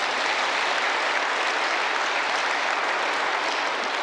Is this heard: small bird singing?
no